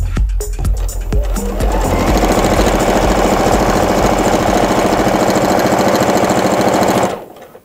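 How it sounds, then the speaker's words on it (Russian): A sewing machine runs steadily, stitching a long seam along the length of fabric for a summer dress made from a shirt. A few short starts come first, then an even, continuous whir lasts about five seconds before stopping. "Так, поворачиваем и стачиваем по длине."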